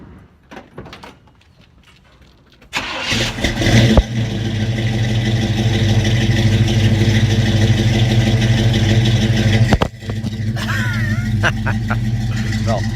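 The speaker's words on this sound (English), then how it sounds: "well, that's what the car sounds like." A 1967 Chevelle SS V8 engine starts with a clatter and settles into a loud, steady rumbling idle, briefly dipping before resuming; faint talk at the start.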